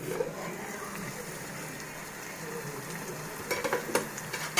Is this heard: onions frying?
yes